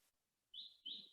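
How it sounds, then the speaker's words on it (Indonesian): Two short, bright bird chirps coming from outside, heard faintly in a quiet indoor room, spaced about a quarter second apart. "Ya seperti suara burung ini ya gimana?"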